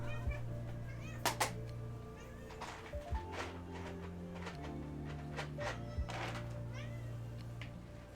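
A cat meows a few times inside Farming Simulator 22, with game engine hum and thunks underneath and no talking over it.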